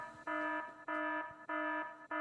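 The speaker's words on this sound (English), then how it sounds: "we had 2 alarms going off" Alarm in the Factorio video game sounding as a steady repeating electronic beep, four evenly spaced tones, each about a third of a second long, clear and alone.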